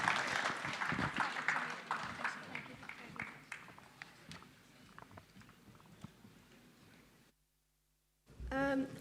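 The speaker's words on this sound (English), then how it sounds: "could we all give a really big round of applause for Mr." An audience applauds an interviewee at the Umrah Connect B2B 2024 event, a modest round of clapping that fades out, a short silence, then a voice briefly begins.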